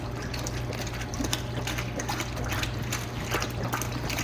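Oat milk sloshing and splashing inside a running dough mixer in a small cinnamon roll factory kitchen, with the mixer's steady low mechanical hum beneath irregular wet splatters, close and continuous with no talk.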